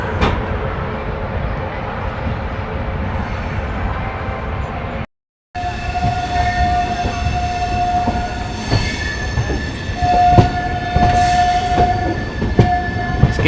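12180 Intercity express running from Agra Fort toward Lucknow, with a loud continuous rumble of wheels on rails, a brief dropout, and then sustained squealing tones and clatter from the moving carriages, close and steady throughout.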